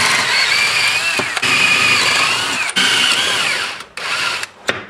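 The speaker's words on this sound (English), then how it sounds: "Drilling the holes." Power drill boring holes into a truck camper while mounting a 5000 BTU air conditioner, a steady whining motor run with a few brief stops and restarts near the end, close and loud.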